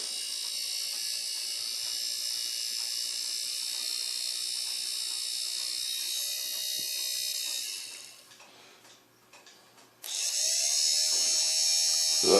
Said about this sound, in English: One repaired motor.